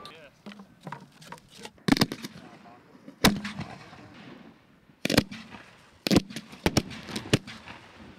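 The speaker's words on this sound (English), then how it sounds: "Just can't wait until the fireworks start." Fourth of July fireworks go off as a series of sharp, loud bangs and crackles, some spaced apart and some in quick bursts, with people talking between them.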